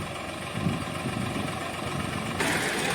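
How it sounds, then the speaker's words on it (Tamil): A tractor engine runs steadily in an onion field during a small onion harvest, a continuous low idling rumble that grows slightly louder partway through, with no voices. "பாருங்கள், வெங்காயம் ஃபுல்லாகிட்டு டிராக்டர் வந்துட்டு இருக்கு."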